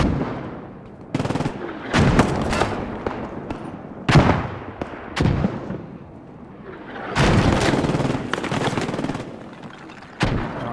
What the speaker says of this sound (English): Fire from the MG.